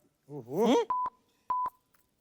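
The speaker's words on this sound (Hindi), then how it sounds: "हम कमिश्नर को फोन लगाएंगे बस।" Telephone dialing tones come right after a short spoken phrase, as four short clean beeps in two pairs spaced evenly apart.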